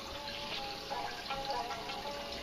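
Old fish tank water poured into a bucket for an indoor wicking garden, a continuous splashing trickle at close range, steady and moderately quiet, with no talk.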